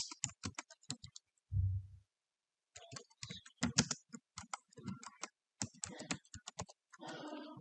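Fast bursts of typing on a computer keyboard, close and crisp, come in clusters of clicks with short pauses between them, alongside a brief low thump; no talking.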